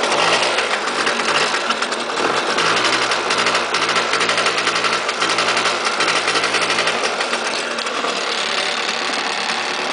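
A 2002 Bombardier DS 90 kid's quad idles low with a steady, fast buzzing putter from its small engine. The sound is loud and close and runs without a break, with no talking.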